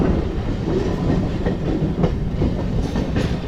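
A MEMU passenger train, number 67204 running from Renigunta to Nellore, rattles along in the morning with a loud, continuous rolling roar and faint rhythmic clickety-clack of wheels, heard from inside.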